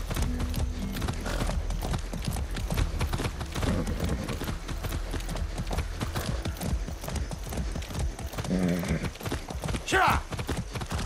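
Rapid, continuous hoofbeats of a galloping horse in the video game Far Cry 6 drum throughout, loud and close, with occasional snorts layered over the rhythm.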